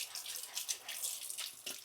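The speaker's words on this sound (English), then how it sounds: "And then with warm water, I rinse that off" Warm tap water runs over a wooden cutting board being rinsed at a sink, a steady hissing splash with brief shifts as the board moves under the stream, fairly faint and close.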